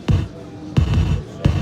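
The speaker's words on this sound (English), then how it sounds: "this is a gated reverb like you may have heard in the 80s" A kick drum run through a gated reverb effect on a 1010music Euroshield Eurorack module booms three times at an even pace, each hit followed by a thick burst of reverb that cuts off abruptly, with no one talking.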